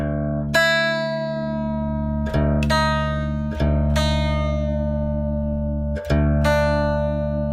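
A dobro resonator guitar is tuned down to double drop D: a handful of bright plucked notes, each ringing out with a long sustain, struck one after another with no talking.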